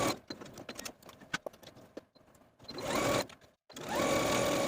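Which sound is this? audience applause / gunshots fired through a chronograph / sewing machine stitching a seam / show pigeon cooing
sewing machine stitching a seam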